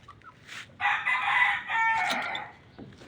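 A rooster crows once, loud and close, a long strained call lasting about two seconds, with a brief squawk just before it.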